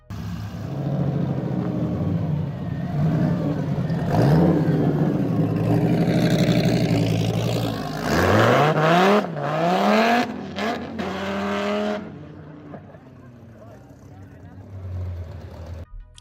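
An 8.3-litre sports car engine revs hard and close, a deep steady roar that climbs in rising sweeps with sharp throttle blips, then drops back to a lower idle-like rumble.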